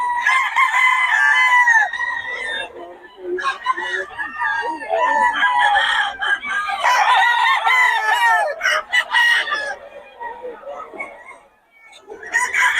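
Banded WPC gamefowl roosters crow loudly and repeatedly, overlapping each other, with clucking between the crows and someone talking over the birds throughout.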